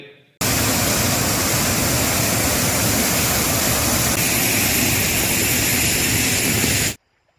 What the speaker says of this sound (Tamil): வாணியாறு அணை தனது முழு கொள்ளளவை அடைந்து உபரி நீர் வெளியேற்றப்படுகிறது